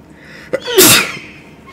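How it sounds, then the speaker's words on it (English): One loud sneeze comes close to the microphone, a quick sharp intake followed by a breathy burst that fades away, with no talk over it. "I'm gonna sneeze though."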